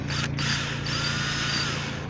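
A power drill backs a long screw out of the driver's side of a 1994 Jaguar XJS soft top, a steady close whirring motor hum running throughout.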